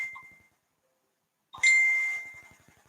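Phone notification chimes: a short tonal ding at the start, then after a second of silence a louder bright ding with a lingering ring, alone with no talk.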